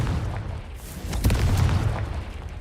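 A Confringo blasting curse explodes in the Hogwarts Legacy video game, a dense low boom swelling midway and rumbling on through the short stretch, with no one talking over it.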